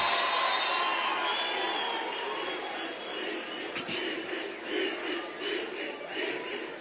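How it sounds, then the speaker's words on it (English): A large university crowd cheers, whoops and claps to welcome the chancellor, a dense, steady roar of voices and hands heard from a distance. "Let's give him a round of applause."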